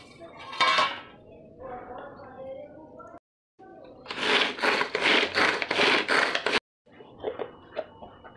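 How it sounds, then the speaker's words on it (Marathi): Green chilies, garlic and ginger are chopped in a hand chopper, giving a loud run of rapid rhythmic clattering bursts with a brief pause, then lighter clicks; a voice speaks before it. "सर्वात पहिले मिरच्या चॉप करून घेऊयात."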